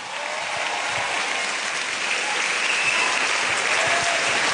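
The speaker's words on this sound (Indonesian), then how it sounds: "Tepuk tangan buat Ari Kriting" Audience at a stand-up comedy show applauding comedian Ari Kriting, a dense, continuous rattle of clapping from a large crowd, loud and sustained throughout.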